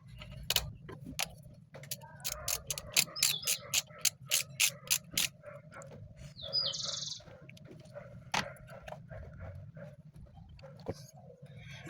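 Ratchet removing the bolt that holds an ignition coil on a car engine: a quick run of sharp, evenly spaced clicks, then a pause and a few scattered clicks, close and fairly loud over low background hum, with faint chirps behind.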